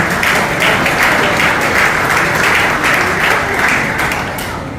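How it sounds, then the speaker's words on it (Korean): At a retirement ceremony for racehorse trainers held by the trainers' association, a gathered audience claps loudly and continuously, the dense applause holding steady before easing slightly at the end. "축하의 박수 보내주시기 바랍니다."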